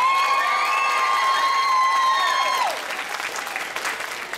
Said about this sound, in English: let's give a big round of applause for all of our contestants.